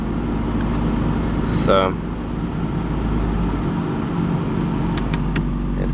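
A car's air-conditioning compressor and fans run in a steady, loud whir with the engine idling underneath, one brief spoken word, and a few faint clicks toward the end.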